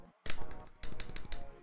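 A GMK keyboard spacebar clicking close up: two bursts of rapid, sharp plastic clacks and rattles, loud and crisp, with no voices.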